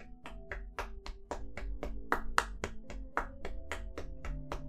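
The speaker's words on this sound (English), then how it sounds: "Round of applause for bacon grease." A short round of applause in a video game session, an even, steady patter of claps at moderate level over a low tonal background, with no talking.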